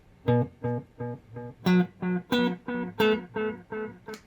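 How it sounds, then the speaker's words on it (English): Repeating delayed synth notes from a BOSS SY-1 guitar synthesizer pulse in a steady rhythm of about ten evenly spaced echoes, loud and close, with bright harmonic tones and no talking. "Here's the delay sound by itself."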